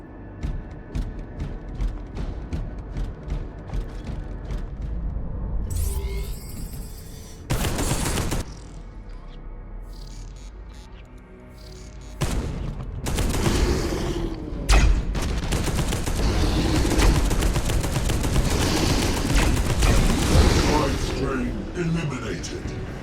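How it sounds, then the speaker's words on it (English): Plasma cannon fire in the Warhammer 40,000 game Space Hulk Deathwing, with repeated sharp weapon blasts and bursts of gunfire-like discharges over a dense mechanical din, loud and near, with speech mixed in at times. "We're switching back to plasma cannon."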